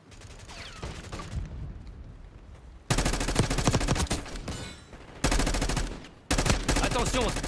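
Gunfire in the shooter video game Black Ops 6 from a semi-automatic weapon, dense loud bursts of rapid shots that start and stop abruptly over a busy game soundtrack.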